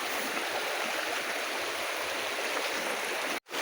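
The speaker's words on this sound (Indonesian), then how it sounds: "Kita menemui sungai lagi tuh." A river flows through jungle terrain on the way to a waterfall, giving steady, dense rushing water that stays constant and close, with no voices.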